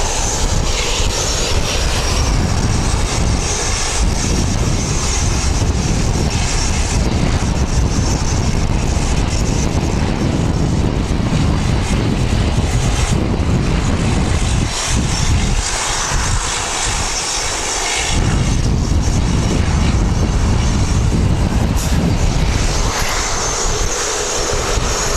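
Airliner departing Wellington Airport for Sydney, a loud sustained engine roar with heavy low rumble that fills the whole stretch, briefly dipping before surging again, with no talk.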